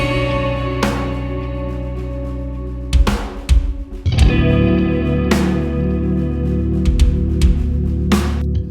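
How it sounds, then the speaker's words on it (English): A clean electric guitar, bass guitar and drums play together in an uncompressed mix, with sharp cymbal and snare hits cutting through steady low bass and ringing guitar chords. "It's basically 3 instruments. It's a clean guitar, it's a bass guitar, and it's some drums."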